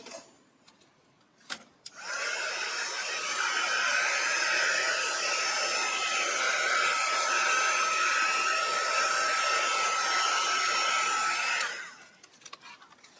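A handheld hair dryer blows on a freshly made wreath greeting card, switching on after a couple of seconds of handling noise, roaring loud and steady for about ten seconds, then cutting off.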